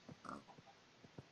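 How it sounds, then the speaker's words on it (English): A few short, soft grunting oinks from pigs in Minecraft, spaced unevenly and faint, with brief pauses between them. "Pigs are still going, it seems. Still got pigs."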